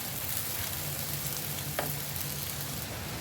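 Ground masala paste frying in hot oil, a steady close sizzle with a faint stir scrape partway through, no talking.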